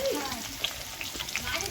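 Cut potatoes fry and get stirred in a pan, a soft steady sizzle with a few light clicks of a utensil, close and fairly quiet, with no talk.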